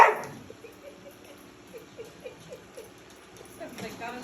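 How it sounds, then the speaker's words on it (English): A pet dog barks repeatedly at a running vacuum cleaner in a house, a series of short, moderately loud yips and barks over the steady hum of the machine, with people talking in the background. "Oh, that's Tigger barking at the vacuum now."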